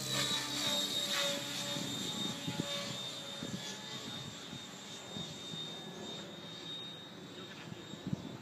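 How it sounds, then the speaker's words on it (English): A T-Rex 700 RC model helicopter flies nearby, its buzzing rotor-and-engine drone running steadily throughout with a high whine on top, loud and continuous. "Sounds like a real helicopter."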